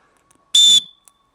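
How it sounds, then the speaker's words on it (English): A single short, shrill blast from a Behind the Whistle referee whistle, loud and close, lasting about a quarter second with a brief fading tail and quiet all around it. "I will use my behind the whistle whistle. Reason being is it's got quite a unique sound."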